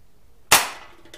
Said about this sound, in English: He gonna see if he can shoot it.